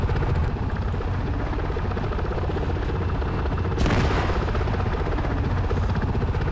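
Helicopter in the Arma 3 combat game, loud continuous rotor thump and engine roar filling the scene, with a sharp burst of gunfire or impact noise partway through and no voices.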